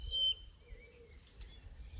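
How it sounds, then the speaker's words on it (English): Faint birdsong drifts across spring fields lined with red poppies, a few short chirps and thin whistles over a low rumble of wind. "with an orchestral background of the wind and the birds"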